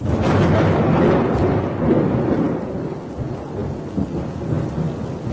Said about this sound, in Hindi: बस एक तूफान है जो आने वाला है।